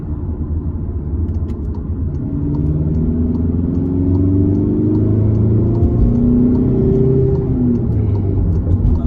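A VW Golf Mk7 1.6 TDI diesel accelerates up to road speed, its steady engine drone rising in pitch inside the cabin over a constant low road rumble, with no talking.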